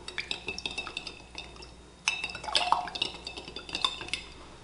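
Skeins of yarn are stirred in dye inside a cram jar, with repeated clinks and scrapes of a utensil against the container and soft liquid sloshing, closer and busier in the second half.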